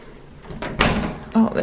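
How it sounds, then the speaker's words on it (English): A hotel room door in Kyoto, Japan being worked open, with a couple of dull knocks and a scraping latch sound close by, ending in a brief creak as it gives. "I have no idea how to open this door."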